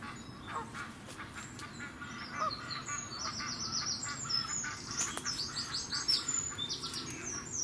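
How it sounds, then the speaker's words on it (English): Ducks call from around a river island at a wild campsite, repeated nasal honks and chirps scattered across the clip, faint and distant over a quiet outdoor background. "Can you hear the ducks?"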